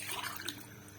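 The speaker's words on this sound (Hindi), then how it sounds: "पानी जो है मैं यहाँ पे डाल रही हूँ" Water poured from a glass into a cooking pot of soaked white chickpeas for chana pulao, a steady close splashing trickle running throughout without talk.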